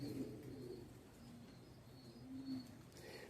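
Spanish pouter pigeons coo in low, repeated rumbling phrases, with a louder coo near the end, while faint chirps come from other birds in the background.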